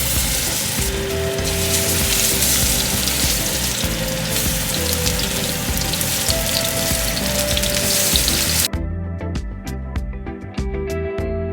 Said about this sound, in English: I'm going to pan fry the salmon here